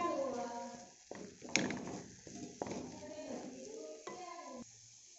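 Spoon stirring roasted wheat flour into a milk peda mixture in a pan, giving soft scraping and dull knocks at irregular moments beneath steady talk in Gujarati.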